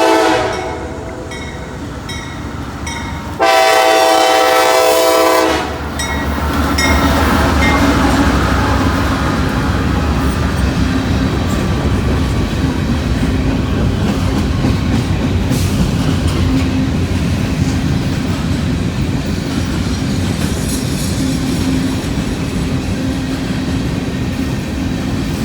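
An empty westbound grain train rolls past at Thurmond, a loud steady rumble of wagons with a sharp horn-like tonal burst early on, then continuous rolling clatter that holds close and strong to the end.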